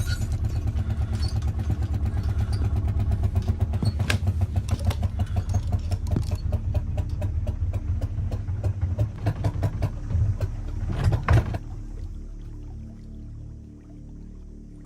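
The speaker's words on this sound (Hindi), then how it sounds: "इंजन खराब हो गया।" A boat engine in the Sundarbans mangrove creeks chugs steadily with a loud, rhythmic clatter, then sputters and cuts out near the end, leaving a quieter, fading tail.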